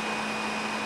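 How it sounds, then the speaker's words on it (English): A string trimmer runs outdoors in the cold with a brief, steady, high-pitched motor whine and a constant buzzing drone at an even, close level. "Weed eating in this cold?"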